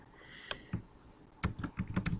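Quiet, close keystrokes on a computer keyboard, a few scattered taps followed by a quicker run of typing toward the end, with no voices.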